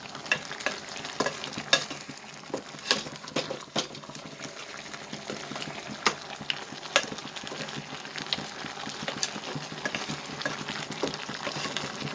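Country chicken sizzles steadily in a hot pan while a utensil scrapes and stirs with irregular clicking knocks, close and continuous.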